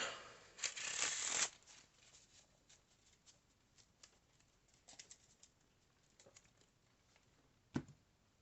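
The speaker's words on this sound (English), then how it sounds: "once I get done shuffling here, I'm going to pass the turn" A quick riffle of cards shuffled near the start, followed by quiet with scattered soft taps and one brief rustle later.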